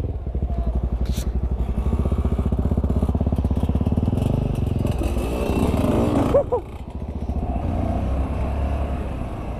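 An off-road motorcycle engine drones steadily and close while riding through mud, with a brief rise and sputter midway before the motor settles back to a constant rumble.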